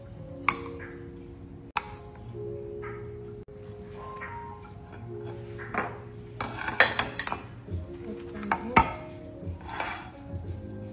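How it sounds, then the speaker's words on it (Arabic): A knife cuts cherry tomatoes on a board during breakfast preparation in a home kitchen, giving scattered close taps and knocks mixed with faint clinks of dishes. "أقطع الطماطم الكرزية"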